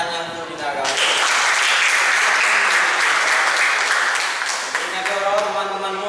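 A classroom audience at a teacher-training session breaks into loud, close applause that swells within a second and holds steady, with a voice speaking over the clapping near the start and end.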